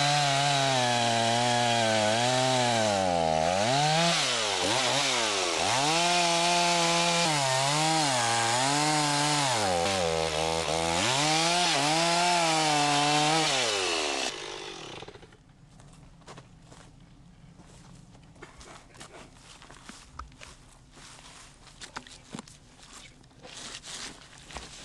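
A chainsaw cuts through a log outdoors, its engine loud and close, rising and falling in pitch with each pass for about fourteen seconds before it cuts off, leaving quiet scattered knocks and handling noises.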